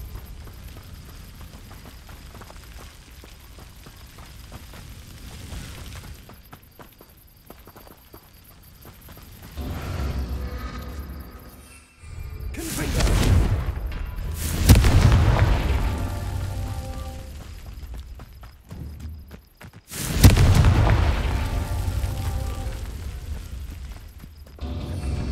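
Confringo blasting spells explode in Hogwarts Legacy, with three loud, sharp blasts, the last two a few seconds apart, rising out of quieter footsteps and low background ambience.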